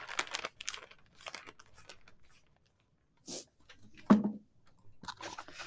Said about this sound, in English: you can toss your paper to the side because you don't need any more.